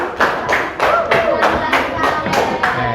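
A class group claps in a steady rhythm, about two beats per second, loud and close, with a few voices underneath.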